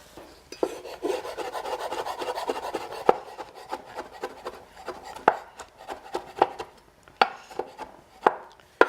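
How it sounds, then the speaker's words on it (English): A knife chops soaked wild mushrooms on a board, first in a quick steady run of close cuts, then in separate sharper chops spaced out, with no talk. "just chop them up a bit and then put them back into the soaking liquid"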